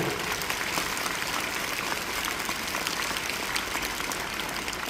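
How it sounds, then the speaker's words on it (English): Audience clapping at a convent school program, a steady, fairly distant wash of many hands applauding at even volume for the whole stretch, with no speech over it. "थोड़ा जोर से ताली बजाएं"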